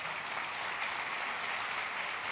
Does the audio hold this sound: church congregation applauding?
yes